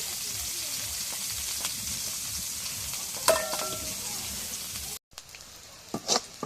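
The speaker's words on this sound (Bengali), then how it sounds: "এখন এই যে রসুন পেঁয়াজ কাঁচামরিচ ভাজা হয়েছে তেলে" Garlic, onion and green chili frying in oil, a steady crackling sizzle throughout with a brief clatter partway and a short pause before the hiss resumes.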